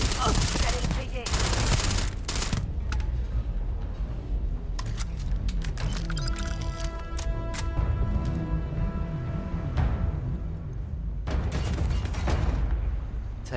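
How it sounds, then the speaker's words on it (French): Heavy sustained gunfire in Starfield, with dense bursts of automatic shots and booming impacts throughout a chaotic firefight, loud and continuous, with a voice talking underneath. "Je sais pas d'où ça tire, mais ça tire."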